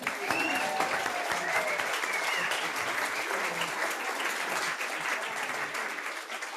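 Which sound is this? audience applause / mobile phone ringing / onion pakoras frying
audience applause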